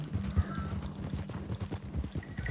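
Horse hooves pound steadily in Red Dead Redemption 2 Online, a fairly quiet, continuous galloping rhythm with faint background game ambience.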